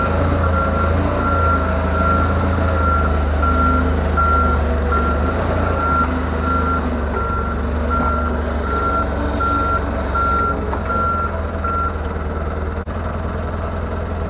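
Diesel forklift with rear-wheel steering backing up, its reversing alarm beeping in a steady, evenly spaced series over a constant low engine idle and rumble, loud and close, with no talking.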